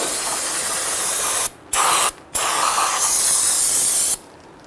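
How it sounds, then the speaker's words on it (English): Aerosol solvent sprayed onto the parking brake shoe assembly of a 2011-2017 Nissan Quest, loud steady hissing bursts close by, broken by two short pauses and stopping near the end. "spray it down with some solvent."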